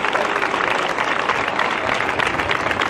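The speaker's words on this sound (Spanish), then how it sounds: "para los que pido un aplauso porque creo que se lo merecen" An audience applauds school musicians from the Manuel de Falla school at a public civic event, a continuous, even wash of many hands clapping at moderate volume with no voices standing out.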